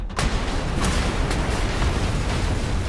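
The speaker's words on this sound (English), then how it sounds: "I'm going to blow him up." An enemy blown up in the video game Ghost Recon Breakpoint: a sudden loud blast at the start gives way to a heavy rumbling roar and crackling debris that lingers close by for several seconds.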